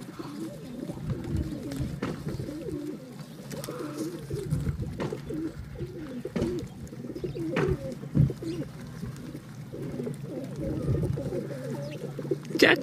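Several pigeons coo nearby in overlapping, rolling throaty calls that go on throughout, with occasional wing flutters and soft knocks.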